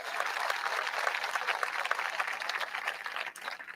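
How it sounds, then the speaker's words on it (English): Audience at a hospital ribbon-cutting ceremony applauds, a dense, sustained patter of many hands clapping that fades slightly at the end. "Let's have another round of applause for that."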